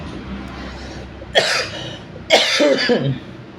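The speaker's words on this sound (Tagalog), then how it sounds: "Naiwan pa yung ubo ko." Two sharp, close coughs about a second apart, each a harsh burst followed by a short rasping tail, over a quiet background.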